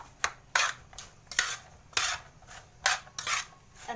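A spoon stirs leftover pasta coated with about two spoonfuls of oil in a pan, scraping and clinking against the metal in irregular bursts about every half second, close and clear with no talking.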